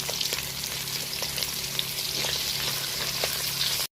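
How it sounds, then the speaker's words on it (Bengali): Hilsa fish pieces frying in oil in a kadai, giving a steady bright crackling sizzle with small pops, close and continuous for about four seconds before it cuts off. "মাছগুলো হালকা করে সমস্ত ভেজে নিয়েছি"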